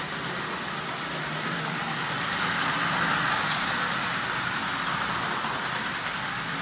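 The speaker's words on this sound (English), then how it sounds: "So an old single reduction motor, pre-war, up and running." Pre-war Marx single reduction electric toy train motor, over 80 years old and fitted in an 898 locomotive shell, running steadily with a continuous close whirring hum and slight rise in the middle.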